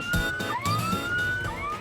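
An ambulance siren wails through a city street, its pitch sweeping up and down in repeated cycles, loud and fairly close over traffic noise.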